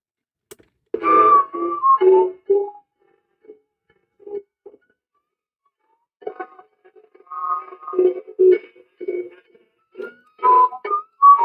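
A battery-powered toy whistles the Chattanooga Choo Choo in short melodic phrases, pausing briefly midway before resuming, fairly close and clear.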